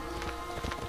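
Horse hooves clip-clop in the Assassin's Creed video game, a quick cluster of several hoof strikes at a trot, fairly soft and brief against steady game background sound.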